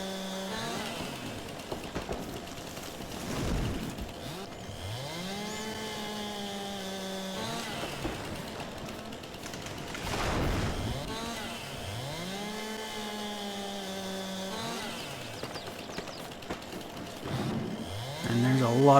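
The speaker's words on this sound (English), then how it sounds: "because if I cut them with a chainsaw, then it will count" Chainsaw in Farming Simulator 22 cutting trees, the engine repeatedly revving up and bogging down in several distinct bursts with rising and falling pitch, fairly close and loud, with someone speaking at times over it.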